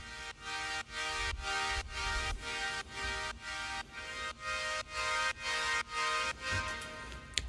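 Thin synth chords with channel EQ, low end cut and highs boosted, form an airy atmospheric pad in retro electronica style, sounding as a steady series of repeated chord pulses with a soft low thump beneath, moderately loud and without talk.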